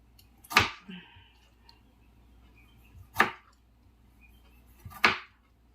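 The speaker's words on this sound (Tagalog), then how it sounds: "gusto ko nito yung manipis na manipis lang yung hiwa ng kamatis" Knife slicing tomato very thinly, three crisp separate cuts spaced a couple of seconds apart, quiet and close against a near-silent background.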